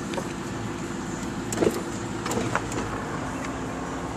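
Power convertible top of a 2001 Ford Mustang operating: a steady electric motor whine with a few mechanical clunks and latch clicks near the middle.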